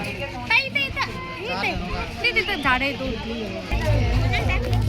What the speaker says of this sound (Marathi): इथं चांगली गर्दी झाली.